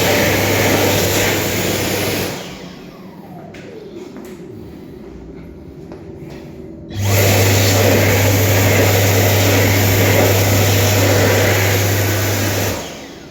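A Dyson Airblade dB hand dryer in white runs in railway station toilets, giving a loud, steady roar with a low hum that cuts out for several seconds before a second long blast.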